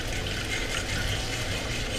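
Steady liquid pouring from a can into a pan of gravy, a continuous broadband wash of splashing with a low bubbling undertone, close and fairly loud throughout.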